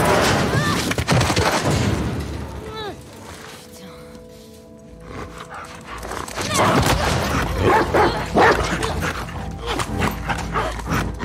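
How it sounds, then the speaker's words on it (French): Dog barking in The Last of Us Part II, a few short yips and barks amid game ambience and music, with a voice talking over parts of it. "Il y avait quelqu'un avec ce chien."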